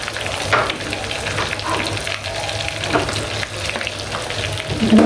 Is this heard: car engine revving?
no